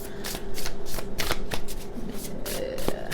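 Tarot cards riffle and slap together in quick, irregular bursts of crisp shuffling, close and moderately loud, repeating over several seconds with soft handling noise between.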